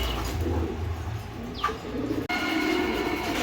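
A pair of German Beauty pigeons of blue barless colouring coo in low, throbbing pulses over a constant background rumble, with a brief rising chirp midway and a sudden click near the end.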